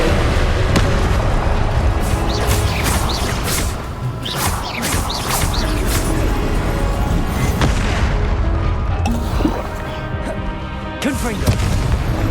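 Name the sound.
Confringo explosive spell blasts in video game Hogwarts Legacy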